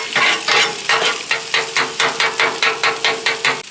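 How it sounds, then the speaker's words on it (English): Eggs fry in sesame oil on a Blackstone griddle, a loud steady sizzle broken by a quick run of rhythmic spatula scrapes and taps on the flat-top. "And then we're going to cook some eggs. Put a little bit of sesame oil in there."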